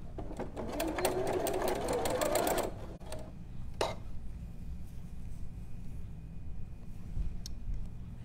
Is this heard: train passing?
no